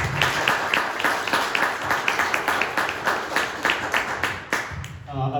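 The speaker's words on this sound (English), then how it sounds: "Let's give him a round of applause." A crowd at an evening community talk at the University of Rochester applauds steadily, a dense run of clapping that tapers near the end.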